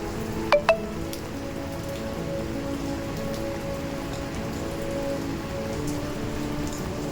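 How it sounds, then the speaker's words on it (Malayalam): Steady light rain patters on a surface, a soft even hiss throughout, with a couple of sharp drips near the start. "എന്തായാലും മഴയത്ത് ചെറിയ മഴയുള്ളൂ."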